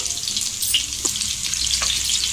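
Chicken meatballs frying in hot oil, a dense, steady hiss and crackle heard up close and loud, with a few faint clinks.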